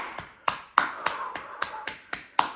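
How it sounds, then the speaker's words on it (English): Sharp hand claps repeat at a steady, roughly even pace during a breathing exercise, about eight crisp slaps close by with quiet gaps between them and no talking. "As you breathe out, clap."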